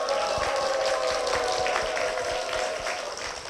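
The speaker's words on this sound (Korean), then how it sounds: "홍봉희 집사님 박수로 모시겠습니다." A church congregation claps to welcome a deacon. The applause is loud and close, with a steady tonal hum running underneath, and it tapers slightly near the end.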